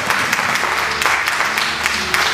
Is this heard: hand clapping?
yes